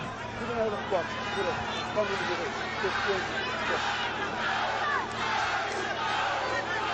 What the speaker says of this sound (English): As you can see, the crowd now excited and be part of this.